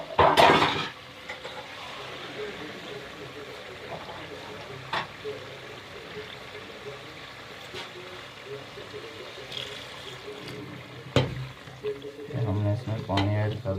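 Water is poured into a pot of cooking chicken qorma: a short splash, then faint simmering and sizzling with occasional clinks of utensils against the pot, and a voice talking near the end.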